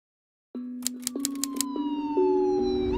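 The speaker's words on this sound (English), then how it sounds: "The sirens went off" Police sirens start abruptly and keep wailing loudly, their pitch slowly sliding, with a burst of sharp clacks layered in early on.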